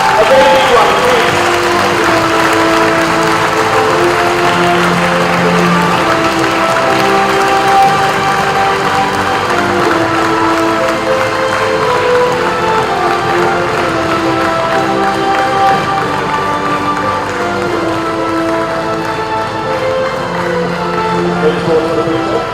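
Guests and Trinity College kata participants at a karate event receive long, steady applause from a crowd, filling the hall evenly and sounding close.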